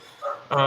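One short, sharp dog bark sounds at the very end, close and clear, after a moment of faint background sound.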